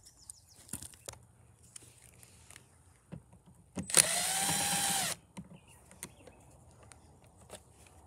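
A power drill backs screws out of a Predator 3500 inverter generator in one loud, steady whir of about a second, with quiet clicks and handling noises before and after.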